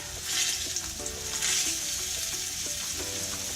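Fish fingers deep-fry in hot oil in a wok, giving a dense, even sizzle that swells briefly as pieces go in, with faint clinks in the background.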